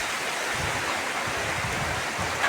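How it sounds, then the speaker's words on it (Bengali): Rain starting to fall during a storm, a dense, even hiss of drops with a faint low rumble of wind beneath, steady throughout and close by, with no voices. "এই বৃষ্টি আসছে, বৃষ্টি আসছে।"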